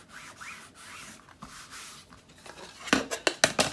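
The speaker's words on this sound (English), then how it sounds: "burnish that in a little bit" Trim is rubbed and burnished by hand onto a wood-engraved journal, giving soft scraping strokes that build into several louder, quick rasping rubs near the end, close up.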